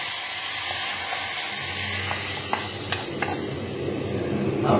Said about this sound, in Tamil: நெய்யில் ஒரு முட்டை, கடுகு, ஒரு மிளகா வத்தல், கொஞ்சம் தூள் பெருங்காயம் தாளிச்சு அதை கொட்டிடணும்